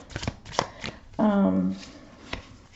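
Tarot cards being shuffled in quick riffling bursts, with a brief voice-like tonal sound in the middle; close and moderately quiet.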